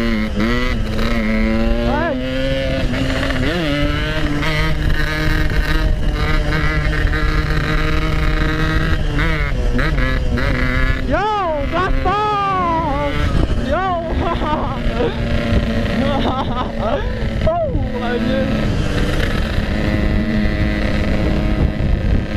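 A Yamaha RX King motorcycle is ridden at full throttle, its engine whining up and down through rising pitch sweeps amid heavy wind rush, while a rider talks and shouts over the noise.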